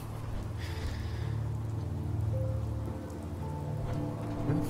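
Rain falls steadily in the video game Fallout 4, a constant hiss of drops layered over low humming game ambience and a few faint tonal sounds, with no one speaking.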